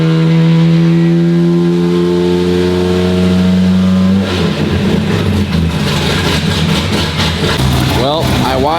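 A Corvette drift car engine making 210 horsepower, loudly revved while being tuned: a steady held note that breaks at the midpoint into rougher, fluctuating revving, close and dominant throughout.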